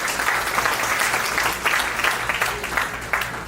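Applause from an audience at a school alumni reunion gathering in Chicago, steady dense clapping for the full stretch with a faint voice briefly audible underneath.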